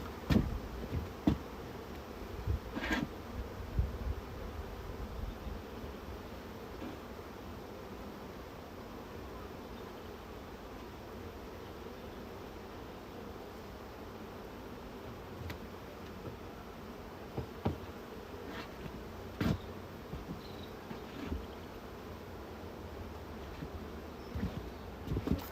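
Honey bees drone in a low continuous buzz throughout a beehive inspection at an apiary, with occasional ticks and knocks of hive equipment, moderate and fairly close, with no talking.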